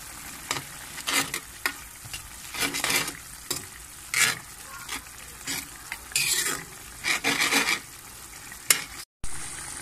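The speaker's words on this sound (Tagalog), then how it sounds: "Ngayon po kumukulo na po ang ating sarciado" Tilapia sarciado sauce bubbles and sizzles in a pot while a utensil repeatedly stirs and scrapes, producing bursts of rhythmic scraping over the cooking sound.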